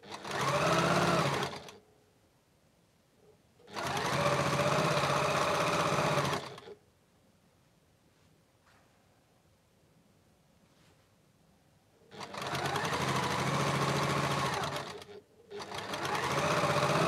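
Sewing machine stitching quilt sashings, loud near bursts of running motor and needle in three long runs of a few seconds each, separated by quiet pauses.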